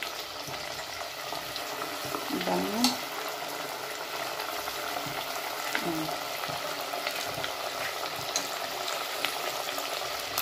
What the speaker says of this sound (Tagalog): Dapat deep fry.